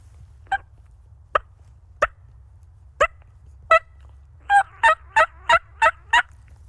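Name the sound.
turkey cluck imitated with a call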